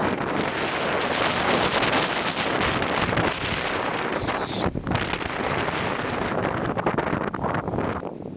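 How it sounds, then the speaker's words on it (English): Strong Oklahoma wind gusts roar across an open second-floor framing site of a tall circular room, loud continuous buffeting against the microphone, easing slightly toward the end. "My second day on the second floor, the Oklahoma wind came sweeping down the plain."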